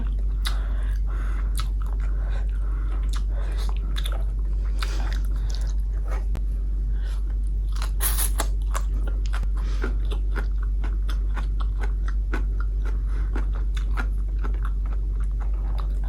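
Crunchy, wet chewing and biting of a spicy Thai pork sausage salad (tam moo yor), close up and steady throughout, with no talking.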